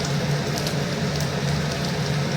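Dal bora, lentil fritters, frying until crisp in hot oil, giving a steady, close, continuous sizzle and crackle with faint popping and no talk.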